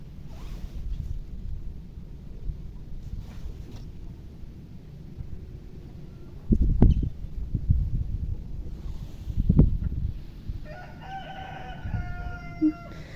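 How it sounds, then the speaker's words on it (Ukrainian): A rooster crows a few times at a moderate distance, with soft rustling and a couple of nearby knocks in an otherwise quiet outdoor setting. "Півень розпівався десь за хатою."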